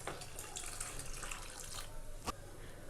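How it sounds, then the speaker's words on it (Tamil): Water runs steadily into a pot of boiling ghee rice on the stove, a soft continuous pouring hiss that stays fairly quiet for a few seconds, with a brief splash near the end. "கொதிக்கிற டைமில் ஒரு 2 கப் அளவுக்கு நம்ம தண்ணி ஆட் பண்ணிக்கலாம்."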